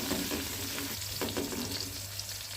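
A pan sizzles steadily while mustard greens are stirred, with scraping strokes of a spoon coming through the frying noise.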